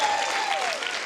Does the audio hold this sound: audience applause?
yes